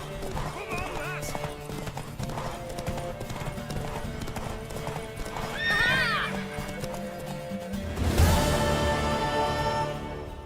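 Rapid clip-clop of horse hooves at a gallop in The Witcher 3: Wild Hunt, with a horse whinnying and voices speaking over the hoofbeats, ending in a louder rush.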